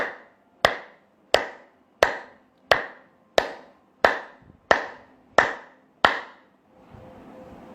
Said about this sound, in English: But when you clap, ensure that all these points meet.